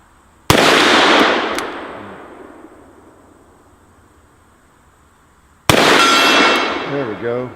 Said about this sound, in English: let's try the shoot some steel target over there.